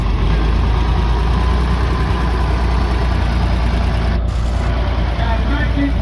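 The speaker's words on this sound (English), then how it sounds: "1958 Ford. I believe that's what that one is. Another donated tractor to the club." Antique 1958 Ford tractor engine running at an outdoor farm equipment show, a steady low idle drone throughout with people talking nearby.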